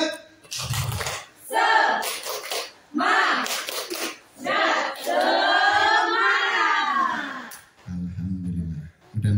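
Indonesian gathering where the audience performs tepuk semangat, a rhythmic group clapping chant: voices chant together in unison while bursts of clapping fall in a quick, patterned rhythm, loud and close.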